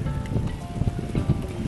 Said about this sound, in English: that's all rain, folks.